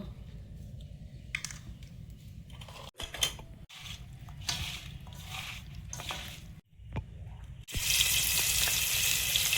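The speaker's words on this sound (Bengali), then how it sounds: "মাছগুলো লবণ হলুদ মিশিয়ে ভেজে নেব" Fish coated in salt and turmeric fry in hot oil with a steady crackling sizzle, broken by a few clanks and scrapes of a utensil, and the hiss grows louder near the end.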